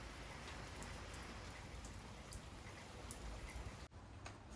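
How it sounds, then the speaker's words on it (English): Steady rain falls outside, a continuous even hiss of drops with occasional faint ticks and one brief dip near the end, with no talking. "I look outside and it's still raining."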